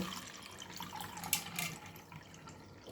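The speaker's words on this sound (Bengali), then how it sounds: "প্রথমে একটু জল এই বাটিটায় ঢেলে নেব" Water pours into a bowl at home in a low, steady trickle, with a few faint splashes and drips and no voices.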